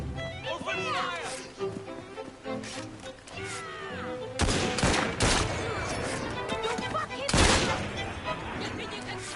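Gunfire in Assassin's Creed Syndicate cracks out in loud bursts and volleys over a busy game soundscape, with shouted voices mixed among the shots.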